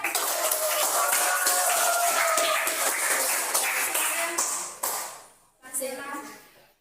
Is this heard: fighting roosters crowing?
no